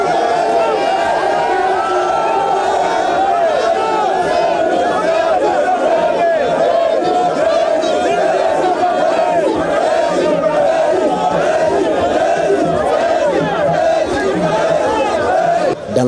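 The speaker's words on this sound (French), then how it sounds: "le chef de l'État a eu droit à un bain de foule de cette population fortement mobilisée" A large, densely packed crowd of mobilised supporters greets Guinea's head of state, Alpha Condé, with continuous loud cheering, chanting and shouting that holds steady throughout, with no single voice standing out.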